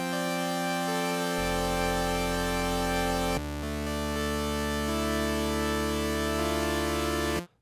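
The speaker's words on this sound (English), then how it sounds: "So with just the saw, the initialized preset, it sounds like this." Serum 2 software synth on its initialized saw preset, a bright buzzy sawtooth sound playing sustained notes that shift pitch a few times, steady and loud with no talking.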